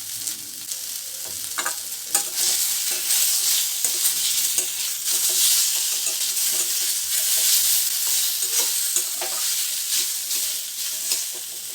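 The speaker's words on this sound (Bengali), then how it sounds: "ওই যে পেঁয়াজটা আমি কেটে রাখলাম তার থেকে কিছুটা কুমড়োর সাথে এখন আমি ভেজে নেব।" Chunks of pumpkin with chopped onion fry in a hot wok, giving off a steady bright sizzle broken by occasional scrapes and clinks of stirring. No voices are heard throughout.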